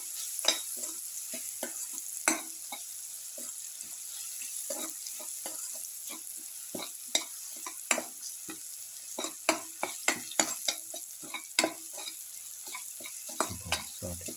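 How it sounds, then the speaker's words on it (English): Winter melon pieces sauté with turmeric, chili powder and salt, a continuous soft sizzle under frequent sharp clicks and scrapes of a spoon stirring the pan, close and with no talk. "Keep on sauteing."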